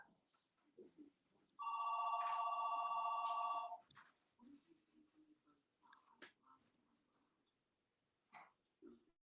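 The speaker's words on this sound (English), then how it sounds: "Is that your phone, Brian?" A phone rings during a call, one loud two-second electronic trill that stands out clearly, followed by quieter scattered sounds and murmured talk.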